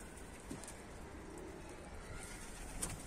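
A pigeon coos faintly, a low soft call somewhere in the middle distance under steady outdoor background noise, with no talking.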